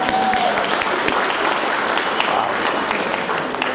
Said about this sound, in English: that guy deserves an applause